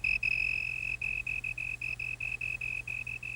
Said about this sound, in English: magnifying the sound made by the slender tree cricket that shapes them